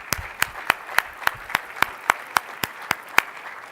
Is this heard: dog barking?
no